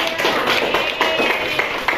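Applause from students in a classroom, a quick run of fairly loud claps with a few sharper taps, and faint voices underneath.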